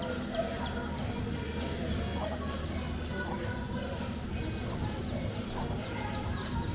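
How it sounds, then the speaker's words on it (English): Small baby chickens cluck repeatedly as they peck for scraps on the floor at a Florida roadside citrus attraction, with chirpy calls scattered over a steady background hum. "look at all the little baby chickens following us chicken around"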